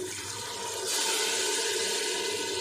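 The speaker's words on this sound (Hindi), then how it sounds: "अब इसमें पानी डाल देंगे।" Water pours into a cooking pot of chickpea keema with tomatoes and cumin, a steady splashing rush that swells louder partway through and keeps going to the end.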